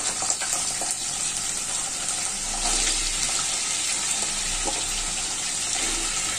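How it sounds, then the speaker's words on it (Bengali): Thick-cut potato pieces frying in oil, a continuous loud hissing sizzle that stays even for several seconds, close up with no talking. "এর জন্য আগে আলুগুলো আমি একটু ভাজি নিচ্ছি।"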